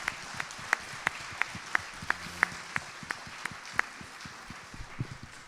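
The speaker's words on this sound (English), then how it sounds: "Another round of applause for the panelists." Applause for the panelists at a youth homelessness policy breakfast, sparse and thinning, with a few individual claps standing out sharply in a quiet room.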